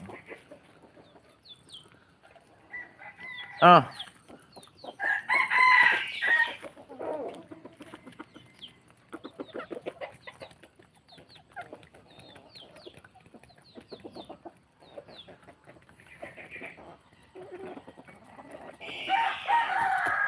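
Chickens and a rooster at feeding time on a farm give repeated clucks and scattered squawks, with a loud crow partway through, close by and irregular, while faint voices talk among them.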